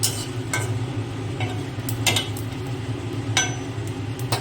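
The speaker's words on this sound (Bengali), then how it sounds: "ওগুলোকে একটুখানি হালকা কড়ার মধ্যে ড্রাই রোস্ট করে নেবো, ভেজে নেবো" Spices dry roasting in a kadai for a chicken dish, giving a steady low crackle and soft scraping with occasional sharp clicks of a spatula against the pan, close and fairly even throughout.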